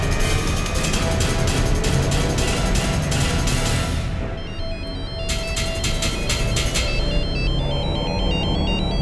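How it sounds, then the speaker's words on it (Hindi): A mobile phone ringtone plays loudly as a repeating electronic melody, with a short pause midway before the tune starts again. There is no speech. "बहरा है क्या? फोन उठा।"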